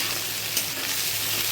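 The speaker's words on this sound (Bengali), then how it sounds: "পেঁয়াজ কুচিটা দিয়ে ভালো করে ভেজে নেব।" Chopped onion and tomato fry in a hot pan, a steady, close, dense sizzle with no pauses and no voices.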